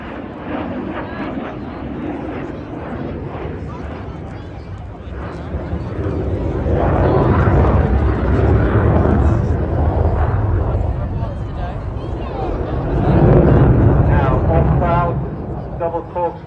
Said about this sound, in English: Tight turn with those canards working very hard at the front. Now full afterburner.